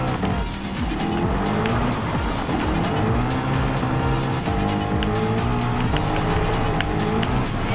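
Gran Turismo 7 car drifting, with a loud engine roaring steadily and tires squealing continuously throughout, close and dominant, with no talking.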